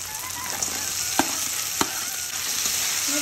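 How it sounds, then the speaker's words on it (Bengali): Steady loud sizzle of fried crabs frying in spiced masala, with a couple of sharp clicks from stirring, no talking. "এবার আমি ভাজা কাঁকড়াগুলো দিয়ে দেবো।"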